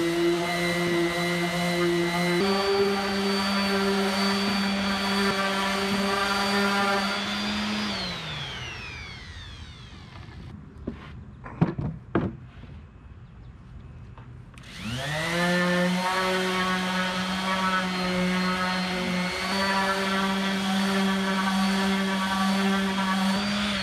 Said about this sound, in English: And then we take them out back and sand them.